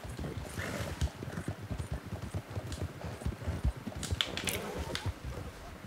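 A horse gallops in Red Dead Redemption 2, its rapid, steady hoofbeats drumming continuously at a moderate distance, with brief sharper sounds scattered through the stride.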